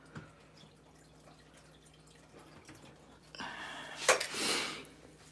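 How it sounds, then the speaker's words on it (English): Water poured onto an aglaonema houseplant indoors, starting as a sudden splashing trickle into the soil partway through and swelling to a brief louder gush before fading, after quiet room tone. "So I'm going to water her."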